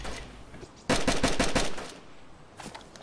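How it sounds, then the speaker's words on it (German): A rapid burst of about half a dozen close, loud automatic gunshots in the video game DayZ during a PvP fight at Berezino, followed by quieter ambient noise. "Boah, ich werd beschossen, ich muss hier weg."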